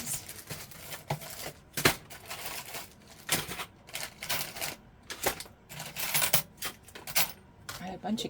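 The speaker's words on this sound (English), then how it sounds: "I have a bunch of keys." A bunch of metal keys is handled and shaken, giving repeated bright clinks and jangles in irregular bursts, close and fairly loud throughout.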